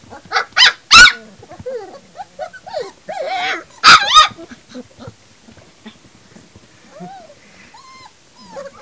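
Young terrier puppies whimper, yip and bark in short bursts, with a couple of loud close barks among softer whines and squeaks.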